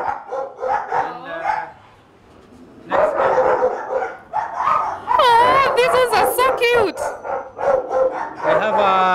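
A pregnant German Shepherd female barks repeatedly in a kennel, with loud overlapping barks, yips and whines close by, broken by a brief lull and mixed with voices.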